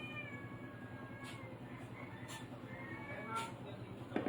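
A cat meows several times, short and moderately close, over a low steady background hum, with a person speaking briefly near the end.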